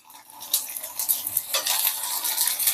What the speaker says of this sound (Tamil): கொஞ்சம் கொஞ்சமாக போட்டு பொரிக்கணுங்க, ரொம்ப போடக்கூடாது